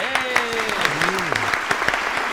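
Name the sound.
audience applause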